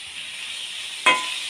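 Boiled banana flower and small boiled potatoes drop into a frying pan of hot oil, a steady sizzle jumping into a brief louder hiss near the end of the short clip.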